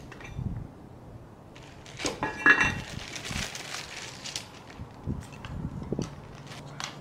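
Lasagna noodles being added to a camp soup pot outdoors, with clinks and scrapes of metal cookware and utensils, irregular handling sounds up close.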